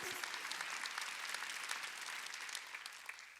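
Church congregation clapping together during a Wednesday worship service, a steady, fairly faint wash of many hands clapping across the whole stretch.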